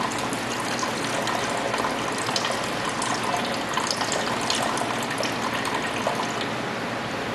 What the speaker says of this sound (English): We're going to start by adding the 330 grams of water